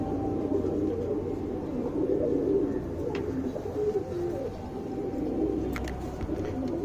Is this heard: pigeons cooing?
yes